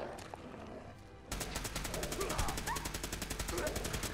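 Shotgun fire in the video game Fallout 4, a dense run of rapid, evenly spaced gunshots erupting abruptly after a quieter start and continuing loud and steady to the end.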